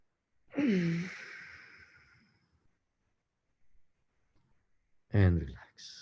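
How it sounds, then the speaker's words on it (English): Deep breaths during a breathing meditation: a long audible exhale with a sigh-like voiced start, fading over about two seconds, then quiet before another voiced breath, close and soft. "Take a deep breath."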